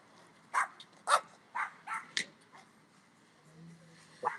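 Dogs being walked outdoors bark and yip in a string of about six sharp, fairly close outbursts spaced through the moment, with a faint low hum in the background and no talking.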